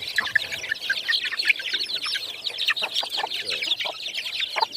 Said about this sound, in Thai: ชุดนี้เป็นแม่ไก่ชนนะครับ